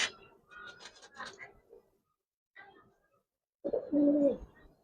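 Pigeons in a Giribaz loft, among them a red-geared female, give faint, close cooing in two separate bouts, a rippling run early on and a fuller, throaty coo near the end, with quiet gaps between.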